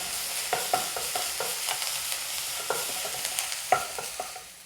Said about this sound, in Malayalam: ഇനി നമുക്കതൊന്ന് സോട്ട് ചെയ്ത് കൊടുക്കാം.